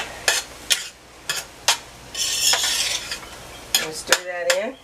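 Spoon stirring chicken vegetable soup in a metal pot while canning, giving a series of short scraping and clinking strokes at an irregular pace, close and fairly clear, with no voices.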